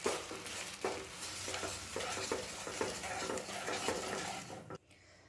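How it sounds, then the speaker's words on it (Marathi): Jaggery melts with a spoonful or two of water in a pan over low gas, giving a soft continuous sizzle with regular scraping stirs of a spoon against the pan, then stopping abruptly near the end. "आता गॅस हा बारीक ठेवायचा आहे आणि हा गूळ विरघळून घ्यायचा आहे"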